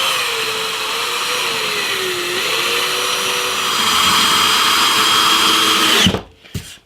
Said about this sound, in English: now very carefully screw the top all the way down, hopefully picking up all the holes